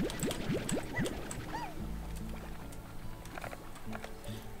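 Water refill being filled in the game Slime Rancher: rising gurgling, pouring sweeps at the start, then a steady low liquid rush with faint bubbling, close and moderately loud, no talk.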